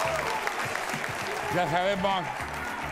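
Studio audience applause fills the room in a steady wash of clapping, with someone speaking over it in Spanish.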